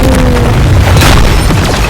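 A deep, booming explosion in a Roblox game rumbles loudly and continuously, with rough low-end crackle and a few sharper bursts layered over it.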